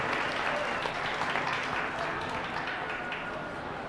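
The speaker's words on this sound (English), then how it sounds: "Please give him a big round of applause to recognize our champion in this division" An audience at a goat show gives a steady, dense round of applause for a division champion, the clapping continuous and fairly close, filling the space.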